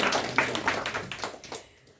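An audience at an International Youth Day 2024 event claps briefly, a short patter of hands that fades out within two seconds.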